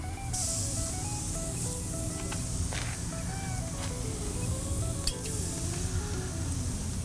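Shrimp skewers sizzle on a grill in a steady, close hissing crackle, with occasional sharper pops and a faint tonal whine in the background, heard without talk.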